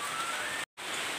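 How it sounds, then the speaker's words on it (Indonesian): Steady rain pours outdoors as a dense, even hiss, close and continuous, broken by one brief silent gap. "Hujan nih, neng"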